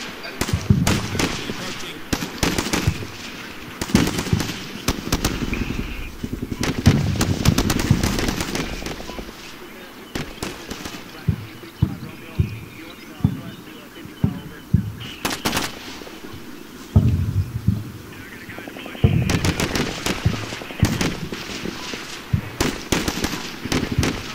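Gunfire in the war video game Combat Mission: Shock Force, with troops under fire while crossing a field: repeated sharp shots and rattling bursts crackle over a battle din, loud and irregular, with a voice talking at times beneath.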